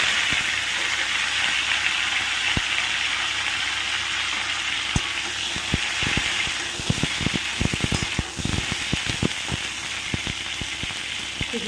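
Boiled cauliflower florets sizzling in oil and ghee in a wok, a continuous bright hiss with scattered crackles and pops that grow denser toward the end, over a low steady hum.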